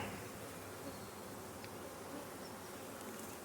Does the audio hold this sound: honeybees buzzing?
yes